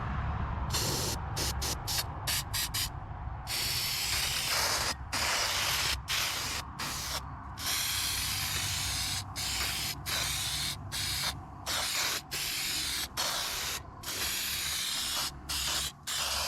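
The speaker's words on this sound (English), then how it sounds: "Can seems to spray better upright" Long, loud hissing bursts from an aerosol can spraying an air filter, sprayed repeatedly with short gaps between many of the blasts, close by.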